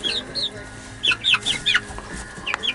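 Chickens clucking in short bursts with a rooster among them on a ranch, several close birds calling one after another in quick uneven bouts.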